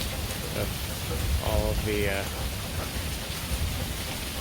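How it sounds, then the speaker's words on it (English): Steady rain pours down at night in a backyard during a big thunderstorm, a dense continuous hiss close to the microphone with brief speech rising over it. "the rain coming down."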